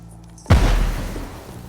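A single loud gunshot boom from the video game GUNCHO, sharp and heavy with a short rumbling decay, standing alone after a quiet moment.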